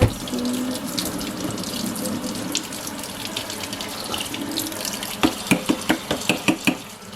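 Lukewarm tap water runs steadily over a vacuum cleaner part being rinsed, a close, continuous splashing stream that turns into a run of rhythmic knocks and splats near the end.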